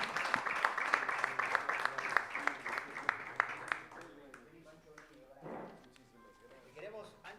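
An audience at a formal event on Bolivian national thought and regional integration claps together, bright and dense for about four seconds before thinning out, with murmuring voices underneath.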